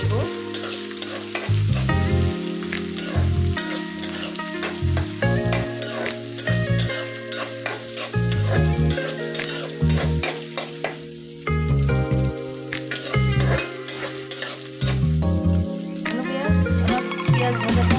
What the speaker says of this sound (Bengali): পেঁয়াজগুলো ভালোভাবে মচমচে করে নিব।